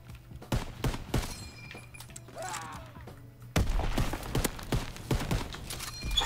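Hip-fire gunshots in a video game ring out as sharp, close bursts of reports, a cluster early on, a quieter stretch midway, then more rapid shots resuming.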